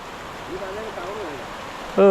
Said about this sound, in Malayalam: ഇനി രണ്ടു മൂന്ന് ദിവസത്തേക്ക് മഴയാണ്